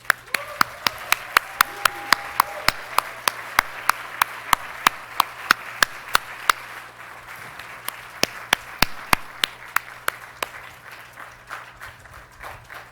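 Concert audience applauding to welcome a violin soloist on stage, a steady wash of many hands clapping with sharp individual claps standing out throughout, continuous and fairly loud for the whole stretch.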